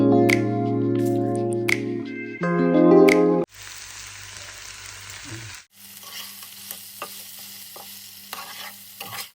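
A pan of bharit, the mashed eggplant dish, frying on the stove is stirred, giving a continuous crackling sizzle with soft scraping. Loud tonal, music-like sounds open the stretch before the frying takes over.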